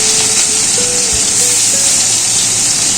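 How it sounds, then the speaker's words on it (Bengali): Pieces of catla fish dropped into hot mustard oil give a loud, continuous hissing sizzle close by, spitting steadily throughout with no voices over it. "সর্ষের তেলটা গরম হয়ে গেছে, এবার একটা একটা করে কাতলা মাছ দিয়ে দিচ্ছি।"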